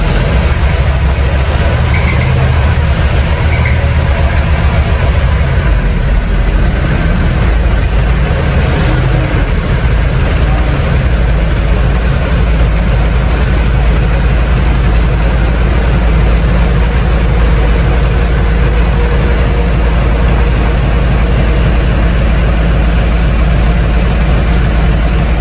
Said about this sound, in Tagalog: Narinig naman ninyo yung makina, talagang okay pa